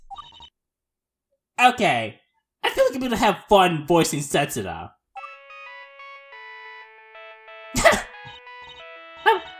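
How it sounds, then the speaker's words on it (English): An old-style telephone ringtone plays in the video game Gyakuten Live!, a steady electronic ringing tone lasting a few seconds after a man's speech, then cut off by another burst of talk. "That's your ringtone? Is your phone a brick from the 80s?"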